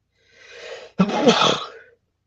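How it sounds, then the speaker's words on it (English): A single loud sneeze close by, a sharp inhale building into an explosive burst that fades after about a second. "Had to hit the sneeze button for a moment."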